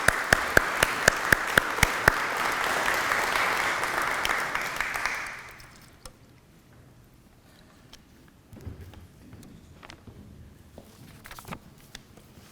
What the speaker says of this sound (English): Can we have a warm round of applause for Judge Getty?